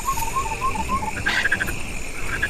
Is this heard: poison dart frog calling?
yes